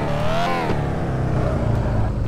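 A video-game car in Car For Sale drifts with a loud sustained engine roar, its pitch sweeping up and down through revs and mixed with tire noise, continuous and close throughout.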